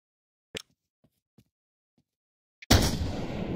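A sniper rifle fires in a VR shooter video game: a few faint clicks lead up to a single loud, sharp shot whose reverberating tail lingers to the end.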